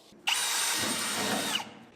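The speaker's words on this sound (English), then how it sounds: "We also gotta drill a hole right in about that area" A power drill bores a hole through Chevrolet C10 Squarebody shortbed pickup truck trim, one steady high whine lasting over a second with a sharp start and stop, loud and close, no talking.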